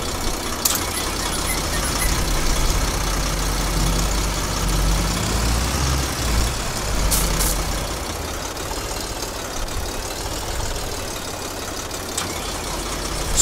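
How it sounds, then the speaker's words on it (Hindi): A Sonalika 60 DI tractor engine in Farming Simulator 22 drones steadily at a loud, low idle-like rumble, struggling under load with a big sugarcane trolley, continuous throughout with occasional squeaks. "भाई जोर नहीं लगा रहा यार ये ट्रैक्टर।"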